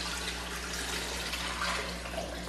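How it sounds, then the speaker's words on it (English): Six cups of water pour into a cooking pot in a kitchen, making a steady, full, continuous rush of liquid that stays close and even throughout. "we're gonna add the water, which is 6 cups of water"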